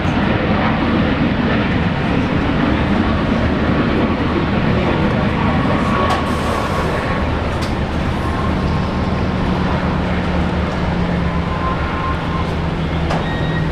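An airliner landing on runway 19 right at Brisbane Airport produces a loud, continuous broadband roar of jet engines and rushing air, with a low hum underneath and a faint steady tone appearing later, while a voice talks over it.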